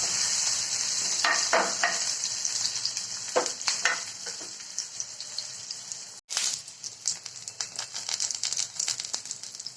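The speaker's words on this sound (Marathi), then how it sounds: "जिरे तडकरल की त्यात लसूण आणि हिरवी मिरची टाकून घेऊया आणि यांना तेलात चांगलं परतवून घेऊया." Garlic and green chillies fry in hot oil in a pan for vada pav, a steady close sizzle with scattered crackles and stirring scrapes, briefly cut out once partway, with no talking.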